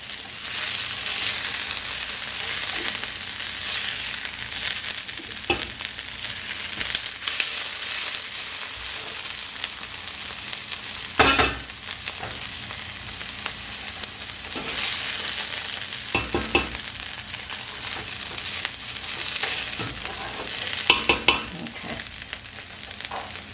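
Chili ingredients fry in a heavy skillet with a constant dense sizzle and crackle, broken by repeated scraping and stirring strokes of a utensil against the pan, close and loud throughout with no voices.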